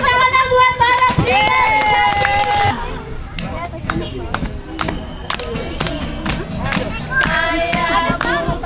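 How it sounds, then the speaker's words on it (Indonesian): At a church staff and volunteer gathering, a group claps hands amid lively chatter, with loud talk and shouting at first, then a run of sharp individual claps under voices. "Oke, tepuk tangan buat Barat."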